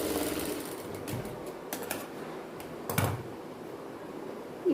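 Sewing machine stitching a silk skirt for a young girl, a soft continuous mechanical whir with a few sharp clicks and bumps, close and moderately quiet.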